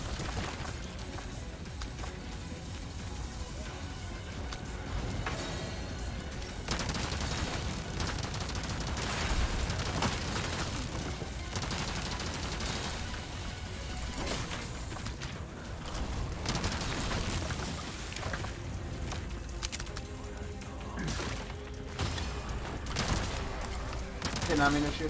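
Gunfire in Resident Evil 4 Remake, Separate Ways mode, repeated sharp shots over a dense, noisy combat soundscape, fairly faint and mixed under a speaking voice.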